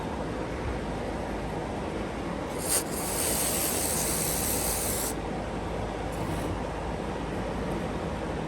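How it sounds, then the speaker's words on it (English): Cleaner sprayed onto mower carburetor parts gummed up by bad gas, a steady close hiss lasting a couple of seconds, then a brief second burst, over a quiet background. "So I'm going to spray this off."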